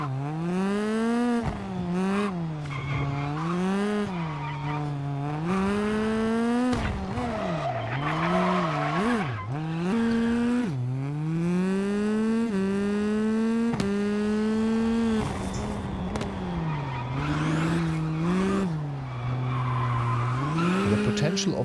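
A hybrid rally car in the WRC Generations video game revs repeatedly, its engine pitch climbing and dropping through gear changes, with tire squeal and skids over a continuous run.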